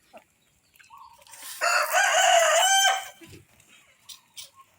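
A rooster crows loudly and close by in one drawn-out call, with brief clucking from chickens before and after.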